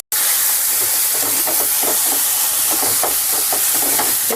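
Leafy greens sizzle and hiss steadily in hot oil while frying for a chutney, a loud continuous crackle close up with no speech.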